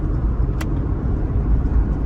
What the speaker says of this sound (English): now we're just coasting in neutral until we get to a spot where we can gas it